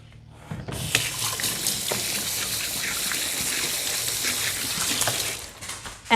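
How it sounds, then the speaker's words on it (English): Hands are washed under a running kitchen tap, a steady broadband gush of water that starts after a short quiet moment and carries on evenly for several seconds before a faint clatter at the end. "So I'm gonna wash my hands."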